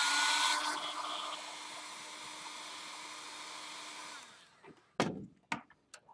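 A heat gun blows a steady loud hiss of hot air onto scored craft foam for a wood texture, running for about four seconds before switching off, followed by a few sharp knocks and clicks.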